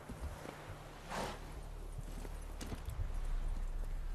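Horse hooves clip-clop at a walk in The Witcher III, a faint soft irregular thudding over quiet game ambience, with a brief louder whoosh near the start.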